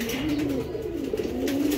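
A pair of racing pigeons, cock and hen, cooing in a steady low rolling murmur, close and continuous over a brief stretch.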